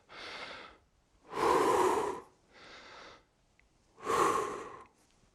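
Deep breaths drawn in and blown out during a shoulder-blade squeezing exercise, four distinct breaths alternating softer inhales with louder, longer exhales, close and alone with no talk.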